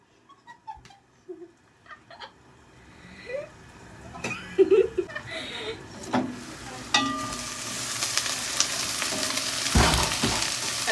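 Onions sizzle in a frying pan while being stirred, starting quiet and sparse with scraping taps, then building into a steadier crackling hiss that grows louder toward the end.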